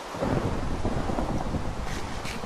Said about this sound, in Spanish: entre que es de noche y que no para de llover